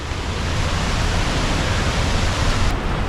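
Waterfall beside the Road to Hana in Hawaii, a loud, steady broadband rush of falling water heard up close without a break.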